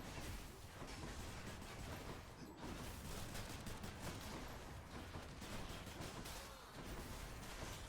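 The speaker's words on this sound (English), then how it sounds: "Let's try to avoid all the explosions here." Continuous dense rumbling blasts and crackling bursts from the video game Hades, steady and loud throughout with a brief dip midway.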